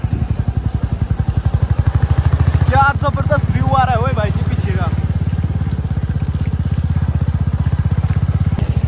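A motorcycle engine thuds loud and steady with a rapid pulsing beat on a muddy mountain road in Himachal near Kullu-Manali, while someone talks over it partway through.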